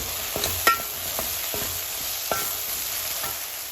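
Brinjal pieces with salt stirred in a pan for brinjal foogath, a spoon scraping in several distinct strokes over a steady background sizzle.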